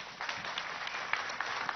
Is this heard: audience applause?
yes